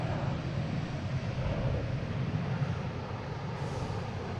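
A Boeing 737-900 airliner on flight 219 at Boston Logan gives a steady, low, distant engine rumble that holds constant throughout, with no talking over it.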